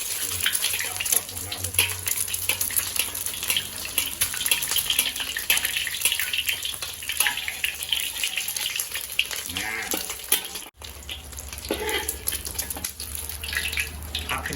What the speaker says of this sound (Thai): บางคนจะ ชอบทอดไข่ด้านเดียวนะแต่สำหรับผมนี่จะพลิกทอดทั้งสองด้านเลย